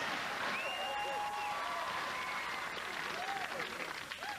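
A game show studio audience applauds in a distant, wash-like spread of claps, faint and even, with bright tonal electronic sweeps and chimes running through.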